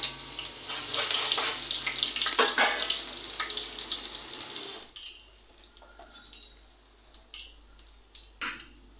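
Crushed garlic hitting hot mustard oil with nigella seeds in a pan, a loud bursting sizzle for several seconds that settles into a faint crackle with a few light clinks.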